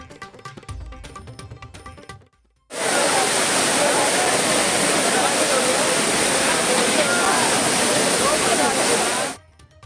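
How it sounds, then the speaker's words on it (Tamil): Loud, steady roar of water gushing down the falls at Courtallam, a dense unbroken rush that cuts in abruptly after a short, quieter lead-in and runs for about seven seconds before stopping sharply. "குற்றாலத்தில் அருவிகளில் ஆர்ப்பரித்து கொட்டும் தண்ணீர்."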